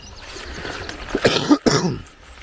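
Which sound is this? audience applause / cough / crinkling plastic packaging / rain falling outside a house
cough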